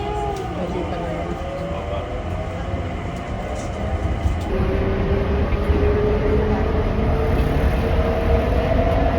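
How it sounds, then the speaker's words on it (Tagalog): A train rumbles past steadily and close, a continuous rail roar with a slight rise in loudness partway through, while a person talks over it. "Bye, train."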